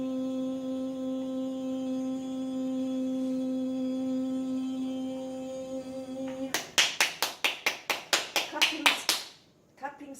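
A quick, loud run of about a dozen sharp hand claps bursts out after a long steady tone, each clap distinct and evenly spaced, ending abruptly in near silence.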